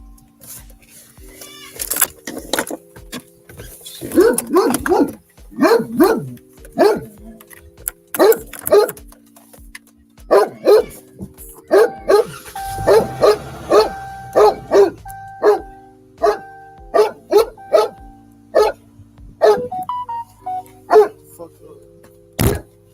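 A dog barks repeatedly, loud sharp barks and yips in irregular bursts throughout, mixed with a person talking and faint background tones.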